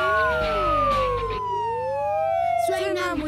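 A cartoon police patrol car siren wails in rising and falling sweeps, loud and close, alongside animated character voices.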